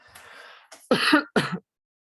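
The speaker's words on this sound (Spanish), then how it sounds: "Déjeme toser un poquito." A person clears their throat, then coughs twice in quick, sharp bursts, close and fairly loud, followed by silence.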